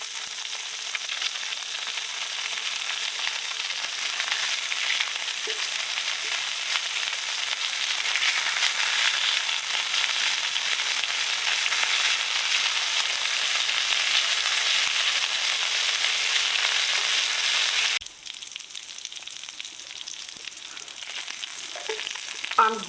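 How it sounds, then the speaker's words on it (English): Crumbed meatballs fry in a pan with a steady, loud broadband sizzle that holds for most of the time. It then drops suddenly to a softer crackle near the end. "We will fry for 5 minutes each side."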